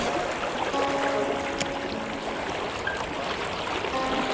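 A strong river current rushes steadily past rocks and a submerged bank, a broad, continuous wash of flowing water heard close and alone with no voices.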